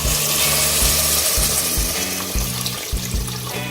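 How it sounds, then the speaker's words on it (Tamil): Tamarind water is poured into a pan of sautéed ingredients while kuzhambu is being cooked, giving a continuous wet rushing splash with a low sizzling bubble underneath. The sound runs steadily for the few seconds and no one speaks. "அந்த புளி கழனியை வந்து இதோட நம்ம சேர்த்துடலாம்."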